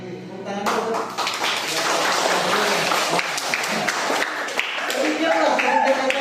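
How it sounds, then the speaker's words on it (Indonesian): Steady, dense clapping from a crowd gathered at an Indonesian training session on artificial intelligence ethics, continuing close and loud for several seconds with a murmur of voices underneath. "Tepuk tangan dulu."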